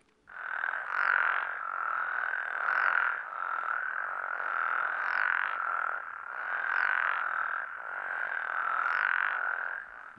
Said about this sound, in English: this is a spectrogram of what the frog chorusing looks like when it's in a very healthy pattern